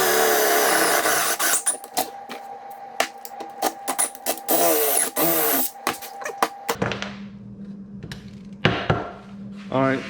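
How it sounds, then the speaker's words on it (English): A drill bores a hole through a piece of steel lubricated with WD-40, producing a high grinding whine broken by scraping bursts and clicks, then stopping abruptly into a quieter low hum near the end. "drilling steel, helps to put a little bit of WD-40 on it. A little lubrication makes it drill easier."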